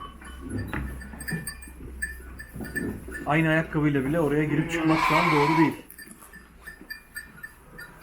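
Sheep bleating on a farm where the flock is being checked for mange, a run of close, loud wavering bleats over a few seconds while a person talks before and after.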